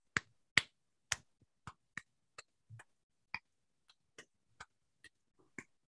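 Sharp hand claps, close and crisp, spaced out in a syncopated Latin-style rhythm of about a dozen strikes, each dry and distinct with silence between them.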